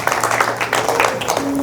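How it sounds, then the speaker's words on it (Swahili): A church congregation bursts into clapping for Jesus during a Sunday service, dense overlapping handclaps filling the room steadily throughout. "Piga Yesu makofi."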